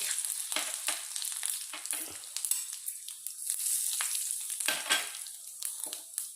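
Peppercorns and cumin seeds sizzle in hot ghee, a close, bright crackling hiss that runs steadily throughout with small popping flurries, and no voices over it.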